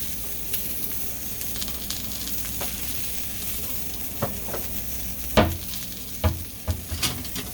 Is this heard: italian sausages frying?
yes